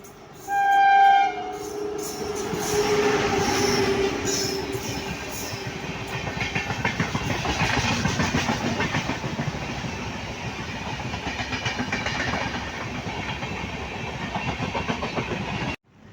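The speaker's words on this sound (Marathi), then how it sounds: "समोरून कुठलं तरी ट्रेन पास होत्या." A train passes at a crossing near Khed station on the Konkan line, opening with a loud horn blast and then a long, steady rumble and clatter of wagons close by that fades out at the end.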